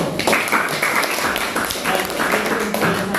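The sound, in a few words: classroom clapping for a student group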